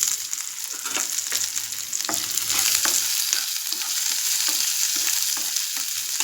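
Plenty of curry leaves fry in hot oil for a fish curry, with a bright, constant sizzle and crackle, low scraping stir sounds and occasional clinks underneath.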